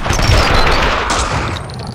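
Dense gunfire in the shooter video game Max Payne 2 makes a loud, continuous roar of overlapping shots and booms that fades slightly toward the end.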